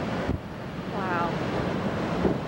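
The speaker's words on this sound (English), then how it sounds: "Oh man, it's windy." Strong wind at a high lookout roars steadily against the microphone, a constant broadband rush with a brief thump near the start.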